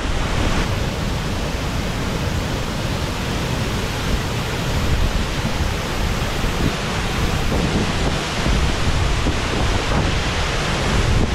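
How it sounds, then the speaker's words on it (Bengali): Jonha waterfall in Ranchi roars as water crashes down from a height, producing a loud, steady, dense rush up close that fills the scene without letup. "এই হচ্ছে জোনা ওয়াটারফলস, ব্যাপক ওয়াটারফলসটা, ব্যাপক।"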